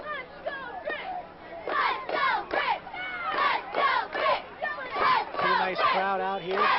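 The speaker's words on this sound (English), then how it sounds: "Pretty nice crowd out" A crowd at a 1999 college football home opener between Griffith and Hobart, with cheers and shouts rising and falling in waves, children's voices and chatter mixed in throughout.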